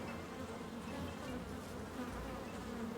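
A close swarm of bees buzzes steadily in a garden setting, a continuous droning hum with no talking.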